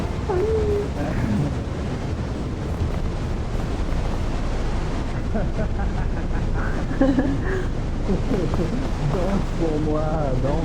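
Wind blowing across a mountain climb in the video game PEAK, a constant loud rushing roar under game music and occasional speech.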